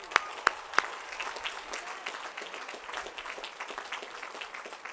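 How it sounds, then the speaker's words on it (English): Applause at a 2013 Cal Poly San Luis Obispo commencement ceremony opens with a few sharp nearby claps, then settles into a soft, distant, even patter from a large crowd. "Let's give them a round of applause."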